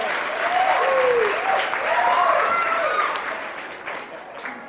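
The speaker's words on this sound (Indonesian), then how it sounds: "Ya tepuk tangan boleh." An audience at a theatre performance applauds with a sustained round of clapping that tapers off toward the end, while a voice with cheering or whooping tones rises over it midway.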